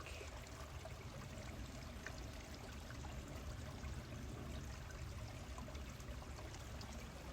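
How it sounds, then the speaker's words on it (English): A small creek trickles and burbles along in a steady, soft wash of flowing water, faint and continuous with no voices over it. "Let's get a little bit more of the trickling creek."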